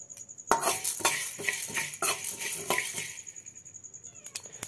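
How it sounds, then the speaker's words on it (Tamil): Coriander seeds dry-roast in a pan for a dry ginger and coriander coffee, giving a rhythmic series of close rattling scrapes and metallic clinks as a spoon stirs them, loud and irregular, with no talking. "இப்போ நாம் மல்லி அதாவது தனியாவை நம்ம போடலாம். இதுவும் நல்லா செவக்க வறுக்கணும் ஃப்ரெண்ட்ஸ்."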